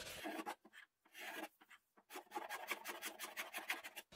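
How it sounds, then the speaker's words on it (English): A freshly sharpened card scraper scrapes across not-fully-dried green wood in short rasping strokes, with brief pauses between bursts and a quicker run of strokes near the end, close and fairly quiet. "I think I'm going to use a scraper instead"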